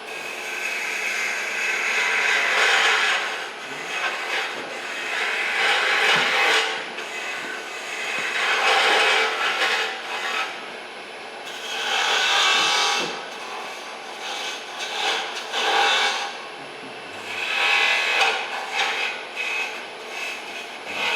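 Wood turning on a lathe with a detail gouge: a continuous rasping, scraping cut that swells and fades in repeated passes, close and alone with no talk.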